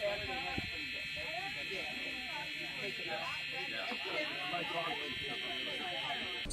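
An Edwards 895B-201 electromechanical horn, a 1980s fire alarm, sounds a loud, steady, raspy buzz that runs without a break, with faint voice-like murmurs underneath.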